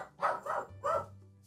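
A small, excitable dog gives three quick sharp barks, moderately close, then falls quiet.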